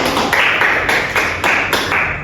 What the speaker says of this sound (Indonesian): Dan beri tepuk tangan